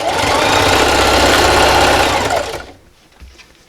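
A sewing machine stitches a straight seam joining T-shirt quilt rows, with a loud, steady mechanical whir and rapid needle thrum, then stops abruptly, leaving a faint rattle.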